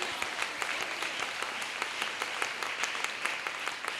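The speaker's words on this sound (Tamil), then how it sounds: "கொஞ்சம் கைத்தட்டி ஸ்தோத்திரம் பண்ணலாமா?" A congregation claps in praise during a Tamil Sunday church service at Shalem Ministries in Thirupparankundram, producing steady, dense applause with crisp individual claps that carries on for several seconds at a moderate level.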